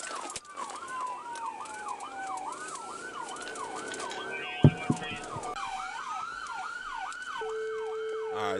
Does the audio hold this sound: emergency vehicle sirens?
yes